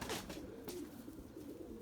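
Pigeons coo softly at a loft, a few low, faint, throaty calls in a quiet setting, with no voices.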